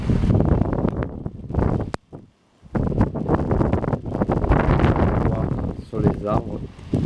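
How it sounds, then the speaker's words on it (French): Strong gusty wind from storm Ciara in Amboise, France, roars loudly against the microphone with rustling trees, dropping briefly before surging again, while someone speaks over it. "Je pense que vous entendez bien le vent qui souffle très très fort."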